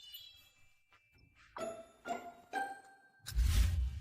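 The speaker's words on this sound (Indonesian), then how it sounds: "kalau berani ganggu kamu, goyangkan bel ini" A small hand bell is shaken and gives three bright dings in quick succession, ringing out briefly, followed by a louder noisy clatter near the end, close and with no talking.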